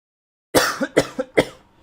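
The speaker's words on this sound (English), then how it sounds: "So you may hear me cough quite a bit today." Three harsh coughs in quick succession, close and loud, each followed by a short wheezy catch of breath.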